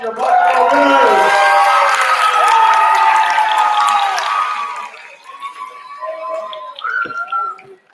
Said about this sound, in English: a big round of applause for your Mock Trial winners